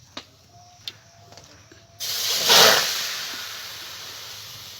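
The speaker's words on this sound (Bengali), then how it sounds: "কড়াইটা আমার গরম হয়ে গেছে। এখন মাছগুলোকে দিয়ে দেব।" After a couple of light clicks, lotte fish (Bombay duck) drop into a hot wok with a sudden loud, close hiss that swells briefly and then slowly fades into a steady sizzle.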